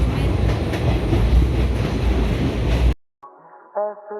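Broadband rumble inside a moving train carriage on a journey from Badarpur to Vrindavan, loud and steady for about three seconds before cutting abruptly; faint harmonic singing or music follows at the end.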